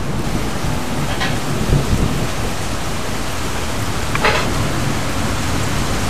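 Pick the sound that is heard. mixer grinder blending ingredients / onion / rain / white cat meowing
rain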